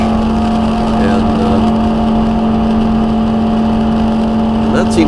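Inside a NASCAR stock car lapping Michigan International Speedway at speed, a loud continuous engine drone with a steady tonal hum and wind roar fills the cabin, unbroken throughout.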